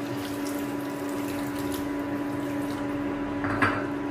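Water running and pouring into a pot of simmering meat curry, a steady wash of liquid noise with a brief louder splash near the end, close and alone with no talk.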